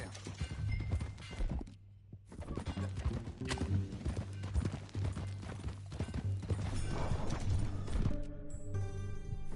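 Horse hooves clip-clopping in Red Dead Redemption 2, a rhythmic run of steady hoofbeats with occasional whinnies and thuds, set under a layer of game music and sound effects.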